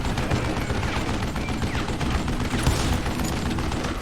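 Heavy, rapid gunfire crackles almost without pause in the Western shooter Call of Juarez: Gunslinger, with dense overlapping shots and booms filling the whole stretch at loud volume.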